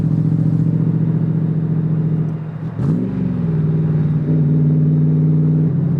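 A Factory Five Roadster Mk II Shelby Cobra replica's V8 rumbles loud and close while driving, a steady low throbbing drone that briefly dips and surges as the throttle shifts, then settles back into a constant rumble.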